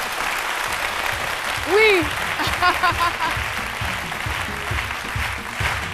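A live studio audience at a midday television show applauds a guest singer with sustained clapping throughout, while a host talks over it and a brief high vocal exclamation rises above the applause.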